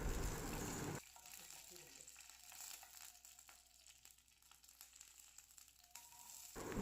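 Dried red chillies and green chillies fry in a pan for capsicum chutney, hissing loudly for a moment and then settling into a softer, steady crackling sizzle.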